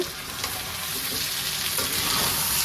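Potatoes and chicken frying in hot oil in a village kitchen pan, a steady close hiss of sizzling with faint stirring scrapes throughout, no voices.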